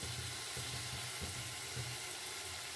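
Onion and garlic paste frying in a pan, a steady close sizzle with faint stirring scrapes throughout, no talk.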